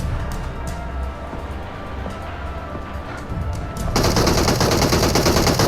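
Automatic gunfire in the mobile battle royale game PUBG Mobile, a rapid burst rising out of steady background game noise and continuing loud to the end.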